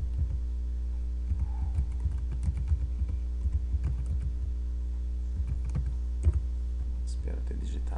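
Typing a password on a computer keyboard produces a steady patter of close, light key clicks over a constant low electrical hum, with a few sharper key presses near the end.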